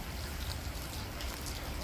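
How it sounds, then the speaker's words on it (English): Rain falls in a home garden among fruit trees such as avocado, mulberry and cassava, a soft, steady patter that stays faint and even throughout with no voices. "The rain now started to come."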